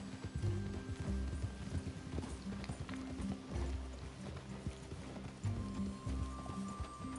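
Horse hooves galloping in a steady clip-clop rhythm in Red Dead Redemption 2, fairly close and loud, with an occasional whinny and faint background game ambience.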